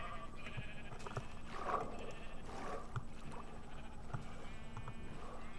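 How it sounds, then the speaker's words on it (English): Minecraft sheep bleat a few times in short, nasal calls, clearest in the middle, over a steady blocky game ambience with faint footsteps and no talking. "These sheep are technically not doing me any good right now."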